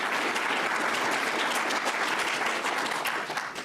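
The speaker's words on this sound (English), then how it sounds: "Let's give a huge round of applause to our graduates." Audience at a metro operations graduation and promotion ceremony applauds the graduates, a dense, steady wash of clapping that holds at full strength across the whole moment with no voices breaking through.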